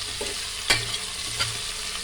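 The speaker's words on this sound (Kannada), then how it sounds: "ಅದನ್ನು ಚೆನ್ನಾಗಿ ಫ್ರೈ ಮಾಡ್ಕೊಳ್ಳಿ." Beans and vegetables fry in oil for a vegetable pulao, a soft steady sizzle broken by two sharp scraping stirs of a spoon in the pan, close up with no talking.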